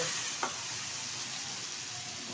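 Poppy seed paste with nigella seeds and turmeric powder frying in hot oil, a steady soft sizzle with one brief clink of a spoon near the start, faint and continuous, no talking.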